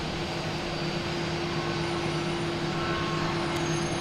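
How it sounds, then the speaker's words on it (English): A United Airlines airliner taking off for Newark at Boston Logan Airport, a steady distant engine roar with a faint low hum, carrying evenly through the whole stretch with no talking. "taking off, we have United Airlines heading to Newark"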